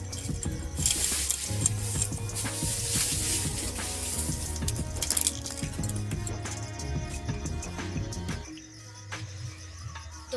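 Live koi fish being rinsed under a running kitchen tap, with steady water splashing and squishy handling noises continuing throughout, then easing to a quieter trickle near the end.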